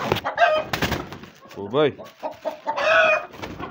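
Hens cluck in short repeated calls at close range on a backyard poultry farm in winter, one drawn-out call standing out, with a person speaking briefly between them.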